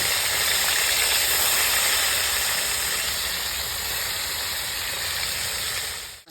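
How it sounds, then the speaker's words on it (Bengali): Fish fries in hot mustard oil in a pan, a loud, continuous hissing sizzle that holds steady and fades out at the end. "তেল গরম হয়ে গেছে মাছটা ভেজে নেবো"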